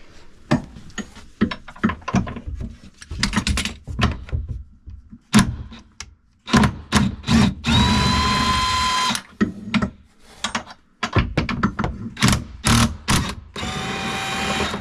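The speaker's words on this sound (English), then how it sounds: "let's use this impact to get this seatbelt bracket out of here" An impact driver loosening the seatbelt bracket bolts in an RV dinette, with several loud, close bursts of rapid hammering whir, the longest lasting a second or two, between clattering handling noises.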